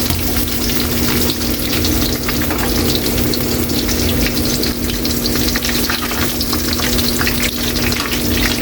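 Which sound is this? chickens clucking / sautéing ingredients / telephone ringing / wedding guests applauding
sautéing ingredients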